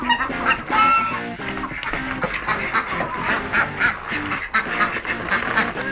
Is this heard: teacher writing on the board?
no